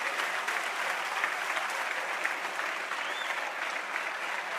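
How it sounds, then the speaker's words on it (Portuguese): A church congregation gives steady, even applause for Jesus, a continuous moderate wash of many hands clapping with no breaks. "Dá uma salva de palmas para Jesus"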